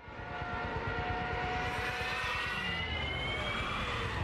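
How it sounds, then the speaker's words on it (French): A Junkers 87 Stuka dive bomber of the Second World War roars past with its siren, a steady howling drone under a rising, sustained whine, loud and continuous without pauses. "Vous connaissez forcément ce son, c'est celui des Junkers 87, les plus célèbres avions allemands de la Seconde Guerre mondiale"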